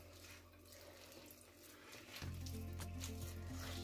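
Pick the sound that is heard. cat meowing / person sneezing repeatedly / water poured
water poured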